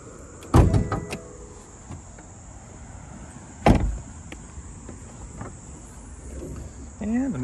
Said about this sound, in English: So let's go ahead and pop the hood